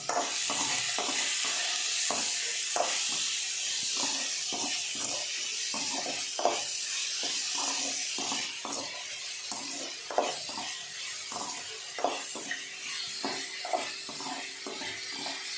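Onions sautéing with a little salt in a pan for home-style chicken curry, a steady close sizzle and hiss under rhythmic scraping stirs that tap the pan again and again, with no talk.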